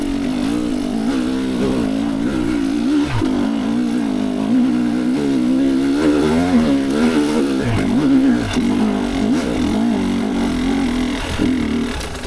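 A 2023 GasGas EC300 TPI two-stroke dirt bike engine revs continuously during a test ride, its pitch wavering up and down through throttle changes, loud and close throughout.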